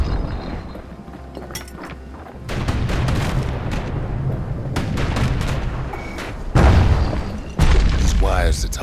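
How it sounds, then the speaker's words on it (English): Hand grenade explosions in the video game Bastion, several heavy booms and sharp blasts layered over game music and effects, the loudest hits landing near the end. "Hand grenade."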